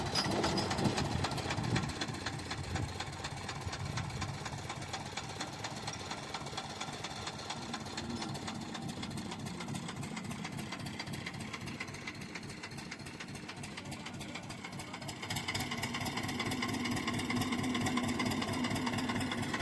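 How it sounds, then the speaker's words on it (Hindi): An HMT tractor engine runs while towing a car, giving a steady, rattling mid-pitched diesel drone with rapid knocking pulses that swells slightly louder near the end, with no talking. "भाई ट्रैक्टर स्टार्ट हो चुका।"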